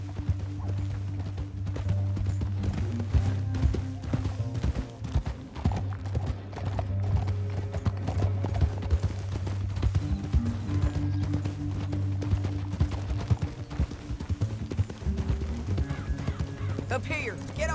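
Horses galloping in the video game Red Dead Redemption 2, continuous rapid hoofbeats under a low music drone, with voices talking over them.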